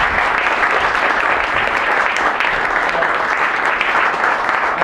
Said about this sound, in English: If you can please stand up and then clap and just welcome Steve today